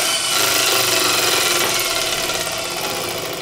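A 3450 RPM electric motor, hooked to a tachometer and bound for a drill press, runs loud and close with a steady whirring hum and slight flutter, alone without talk.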